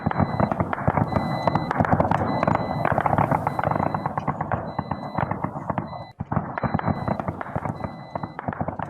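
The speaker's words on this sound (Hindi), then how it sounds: "सऊदी समर्थित गुटों और सेना ने बमबारी कर दी है।" Gunfire and bombardment during clashes between Saudi-backed forces and the army in Al Jawf province, northern Yemen: a dense, continuous barrage of rapid cracks and bursts that stays loud throughout, with a brief dip near the end.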